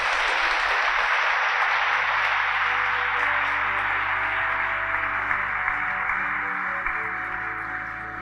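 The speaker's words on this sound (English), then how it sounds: "So let's give them a round of applause." Long, steady round of audience applause at a graduate event in Kent and Medway, a dense wash of clapping that fades slightly toward the end, with no talk over it.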